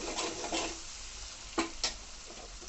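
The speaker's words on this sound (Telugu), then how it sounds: "వేసిన మసాలా ఇదిగో నూనె పైకి వచ్చిందిగా ఇది కూడా వేగినట్టేనండి" Masala for a potato and pea kurma fries in oil with a steady, close sizzle, broken by a few louder scraping stirs near the end; no talking.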